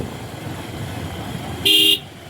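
A single short car horn toot sounds near and loud above a steady rumble of idling vehicles in a highway traffic jam near bridge and toll construction.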